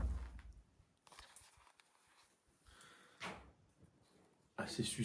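Doors upstairs in a convent, moved by the wind, thud and rattle distantly now and then against a quiet background, with a louder bang and clatter near the end.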